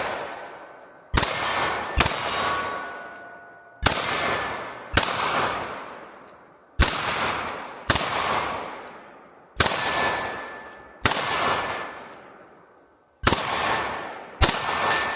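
A Smith & Wesson .22 Magnum fires repeatedly at steel targets outdoors, each sharp shot followed by a ringing metallic clang that decays slowly, about ten evenly spaced loud hits with no talk.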